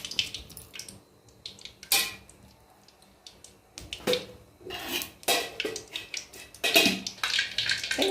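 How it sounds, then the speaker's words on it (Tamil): Mustard seeds splutter and pop in hot oil in a pan for a kozhukattai recipe, giving sharp irregular crackles and spits that grow busier over time alongside a few clinks of utensils. "எண்ணெய் காஞ்சிருச்சு, கடுகு போட்டுக்கலாம். கடுகு பொரிஞ்சிருச்சு."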